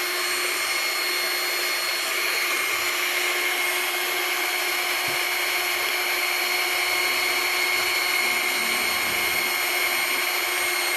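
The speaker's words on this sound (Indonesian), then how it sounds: "Mixer terus ya guys sampai butter creamnya habis." Electric mixer whipping Swiss buttercream, a steady, loud whirring motor hum running continuously without pause, no voices.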